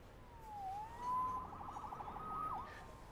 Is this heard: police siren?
yes